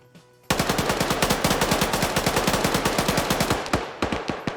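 Sustained rapid automatic gunfire in a valley during a military video game battle, loud and close, a steady stream of sharp shots after a brief quiet start, thinning to a few separate bursts at the end.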